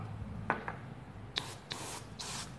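A pen-style airbrush sprays paint in a few short hissing bursts, soft and close, separated by brief pauses over a low background hum.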